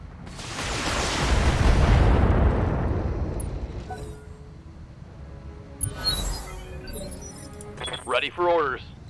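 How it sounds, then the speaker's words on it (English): A deep, rolling explosion swells and fades over several seconds as turret shots strike mechs in the BattleTech tabletop-style strategy game, followed by lighter metallic clinks and brief bursts of game sound effects. "Well, I guess those shots are meant for my mechs."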